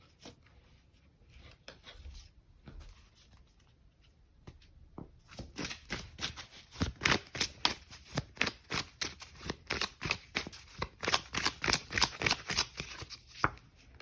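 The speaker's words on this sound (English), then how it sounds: "Let's pull some oracle cards here." Oracle cards are shuffled by hand in a quiet room. Soft rustling at first builds into a fast run of crisp, rhythmic riffling slaps in the second half, close and fairly loud.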